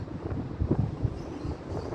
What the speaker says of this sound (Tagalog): Mahangin dito sa taas.